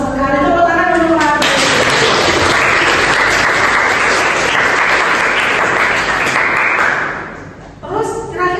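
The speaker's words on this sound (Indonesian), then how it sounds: "Tepuk tangan dulu, Pak." A classroom erupts in loud, dense applause that swells for several seconds and then fades out, with speech heard briefly before and after the clapping.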